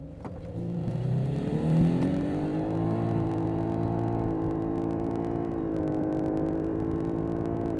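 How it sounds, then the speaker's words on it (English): A 2018 Lexus LS hybrid, rated at 360 horsepower, launches hard in Sports Plus mode, its engine droning and whining upward with a rising pitch and odd shifts, steady and close, with no talk. "I'm going to put the car into Sports Plus mode now, and I'm going to launch it to see how fast it is"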